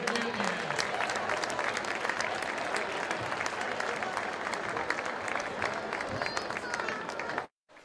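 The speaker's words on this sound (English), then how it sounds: "please let's have a nice round of applause for our corporate sponsor" Sustained applause from a crowd at a high school varsity boys basketball championship game in a gym, loud and dense with clapping and crowd noise throughout, cutting off abruptly near the end.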